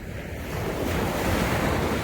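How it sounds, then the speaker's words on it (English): Ocean surf crashes onto the shore in a loud, continuous broadband roar, swelling slightly, with wind buffeting the microphone and no voices. "So let's enjoy the crashing waves."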